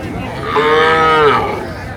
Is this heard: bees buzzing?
no